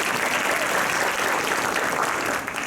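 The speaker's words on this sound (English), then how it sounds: "you should give yourselves a round of applause" A graduation audience at the Sallie B. Howard High School Class of 2024 ceremony breaks into steady, dense applause that fills the hall evenly, then eases slightly at the end.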